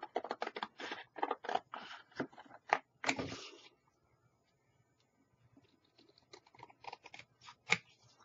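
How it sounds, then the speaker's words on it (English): Scissors snip through printed cardstock in quick repeated cuts, a steady run of crisp close snips, then a pause with near silence before a few more scattered cuts resume. "And then all you're going to do is cut it out."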